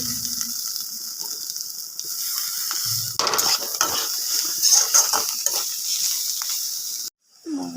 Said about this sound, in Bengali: আমি ভেজে নেব।